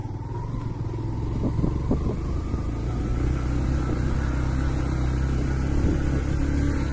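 A motorbike ridden uphill on a very bad jungle road gives a steady, loud engine drone with rough rumbling and a few knocks from the uneven surface, with no voices.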